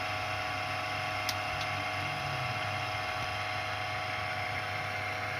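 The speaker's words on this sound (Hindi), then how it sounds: "ये मोटर हमारी ऑन हो गई है।" A Dawlance washing machine motor running after a rewired 7-wire timer and selector switch is switched on, giving a steady, continuous mechanical hum at an even level throughout.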